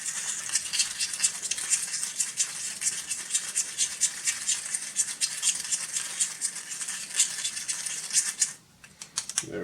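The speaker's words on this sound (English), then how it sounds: "I'm just going to stir that up." Scratchy, rapid stirring of a 1-gram firecracker powder mixture in a small container, close and fairly quiet, with dense rattling strokes that continue steadily before stopping near the end.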